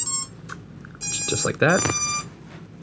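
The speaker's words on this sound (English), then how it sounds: "You'll hear the motors beep, letting you know that everything is disconnected." An FPV drone's motors give a short series of electronic beeps after it disconnects from the configurator, with a voice talking over and around the tones.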